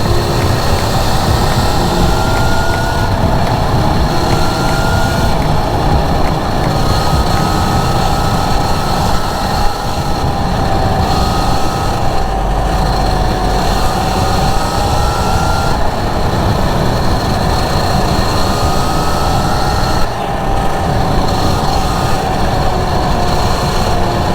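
Steady, loud engine drone and wind rush from a motorcycle cruising along at a relaxed pace with slight speed wobbles, continuous for the whole stretch with no talking.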